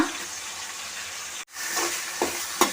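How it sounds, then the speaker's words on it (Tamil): Onion and tomato sauté in a pan for a Tamil egg curry, producing a steady close sizzle that cuts out briefly, then resumes with a few light stirring knocks. "வெங்காயம் தக்காளி எல்லாம் வதங்கணும்"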